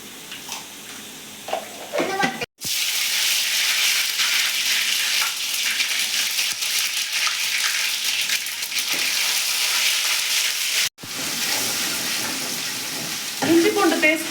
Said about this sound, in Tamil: எண்ணெய் ஊற்றிட்டு எண்ணெய் சூடாக கடுகு போட்டுக்கலாம்.